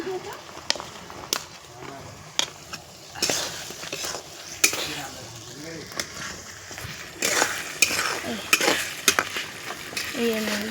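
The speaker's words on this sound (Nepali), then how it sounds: "म अब मटर हाल्दैछु यहाँ।" Peas frying in a pan over a wood-fired stove, with steady sizzling and intermittent scraping strokes of a stirring utensil, close and fairly loud throughout.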